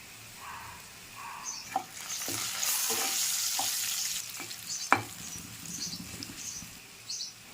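Onions with turmeric and spices fry in oil for a Telugu fish curry, a chepala pulusu, with a steady soft sizzle. A spoon stirs through them in several scraping clicks, one sharper tap standing out.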